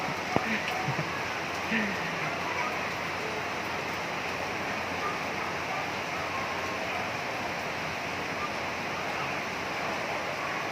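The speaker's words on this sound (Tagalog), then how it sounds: "Thank you God nga umuulan na." Steady rain falls in an even, hissing wash that stays constant from start to finish, with no clear voices over it.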